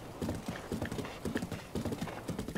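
Horse hooves gallop in a steady, rapid clip-clop rhythm in Breath of the Wild, close and prominent with a faint whinny underneath.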